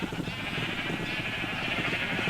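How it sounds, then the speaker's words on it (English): Sheep bleat in Minecraft, several wavering calls overlapping in a dense, continuous stream from a crowd of animals milling about in one area, loud and close. "If you get lots and lots of sheep in one area, they just kind of shuffle about"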